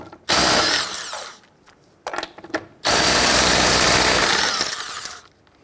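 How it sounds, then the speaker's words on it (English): Impact gun loosening and removing the 19mm lug nuts on the rear wheel of a 1999-2004 Jeep Grand Cherokee, with two loud sustained bursts of whirring and hammering separated by short rattly spurts, close by. "Using your 19mm socket,"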